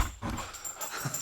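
A dog whimpers and whines in short, soft, high-pitched bursts, close by and on its own, indoors at a home reloading bench.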